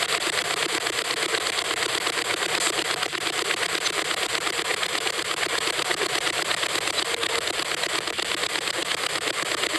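A ghost-hunting communication device at a cemetery, near a teddy bear, emits a continuous harsh, buzzing static with a fast, regular pulsing texture, loud and unbroken with no talking.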